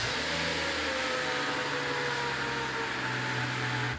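A Mercedes CL65 AMG idles steadily after starting, a low continuous engine drone with a faint fan-like hiss running evenly throughout.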